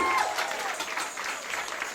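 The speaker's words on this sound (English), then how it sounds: "So big round of applause once again to these wonderful ladies." An audience claps steadily at a Diwali lights switch-on in Derby, a dense patter of many hands that carries on throughout at moderate loudness.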